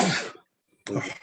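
A single sharp human sneeze, loud and close, split into two bursts around a brief silent gap.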